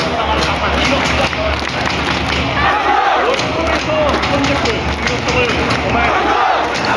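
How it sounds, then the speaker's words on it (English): A South Korean crowd cheering patriotically: loud, dense massed shouting and chanting with thumping beats, close and continuous, with voices mixed throughout. "Everyone was cheering."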